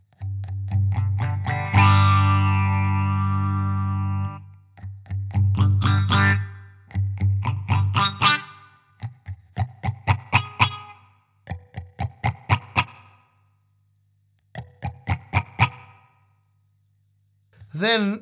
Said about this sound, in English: you can hear it sort of opening up a tiny bit like an auto wah.